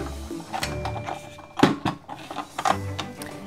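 A screw is turned to loosen part of a toy tyre rack from a Disney Cars Lightning McQueen die-cast set, giving a few soft plastic clicks and scrapes in short irregular bursts, close and fairly quiet.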